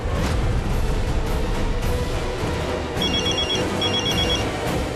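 During an outgoing call a telephone rings over steady background noise, with two short trilling ring bursts near the end, moderately loud.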